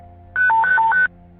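Fire department paging tones from a 911 dispatch console in Colbert County, Alabama, alerting a fire engine to a possible structure fire: a loud alternating two-pitch electronic tone sequence of about four steps, starting abruptly and cutting off after under a second.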